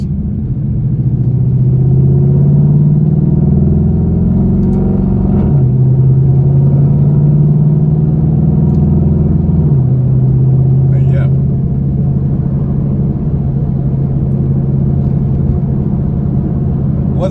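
A straight-piped Chevrolet Camaro 2SS gives a loud, deep, continuous exhaust drone from inside the car, rising through gears with audible shift steps before settling into a steady rumble.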